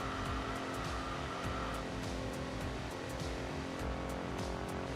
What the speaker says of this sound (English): The air-cooled boxer engine.